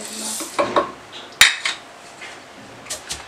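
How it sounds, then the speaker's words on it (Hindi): Coriander, dried fenugreek and cumin being pounded coarsely in a kitchen: a few sharp metallic knocks and clinks in irregular bursts, one louder strike standing out amid quieter taps. "सबसे पहले धनिया, कसूरी मेथी और ज़ीरा को हमने मोटा मोटा कूट लेना।"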